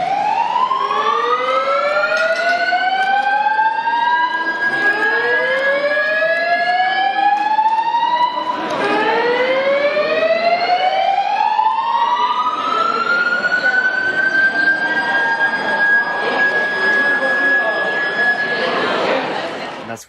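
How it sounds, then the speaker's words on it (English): A recreated whoop tone from a vintage Honeywell FS90 fire alarm panel blares over speakers: repeated rising whoops in a steady cycle, each sweeping upward, very loud and close and echoing in the room. "it did like a really unique whoop tone. And I have that tone recreated and I put it on the speakers"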